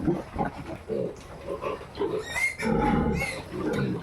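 A large boar on a backyard farm grunts and snorts close by in a run of short, rough bursts, with a louder cluster of grunts near the end.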